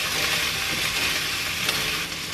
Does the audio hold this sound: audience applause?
no